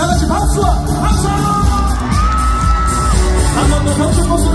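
A crowd at an outdoor lotus lantern festival celebration concert in Incheon claps and cheers with whoops and shouts, loud and close, mixed with a singer's amplified voice and bangs.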